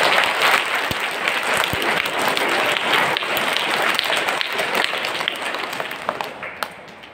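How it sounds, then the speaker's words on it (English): Sustained applause from an audience at a school affiliation ceremony, dense steady clapping throughout with no talk over it. "Give them a big applause for their work."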